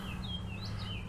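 Birds chirp near a newly built birdhouse, a few short thin tweets over a low background rumble, faint and moderately distant, with no voices.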